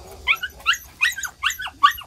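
A rural dog let out of its cage for the day, now outdoors at a farmhouse, gives five sharp, evenly spaced barks over about two seconds, fairly close and loud, with no talk.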